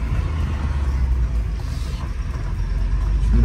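Inside a moving BMW E36 320i coupe, a deep engine hum and heavy road rumble roll on steadily, growing slightly louder toward the end.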